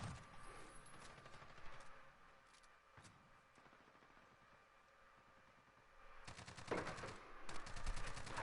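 Rapid MP5 submachine gun bursts in a shooting video game, clattering in fast, tight strings with short pauses between them, closer and louder toward the end, with no talking.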